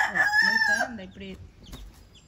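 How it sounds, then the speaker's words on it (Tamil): A rooster crows loudly and close by in one drawn-out call, followed by a few shorter clucks and low ambient noise, with no talking over it. "அங்கிட்ட அந்த சேவல் வேற கத்துது"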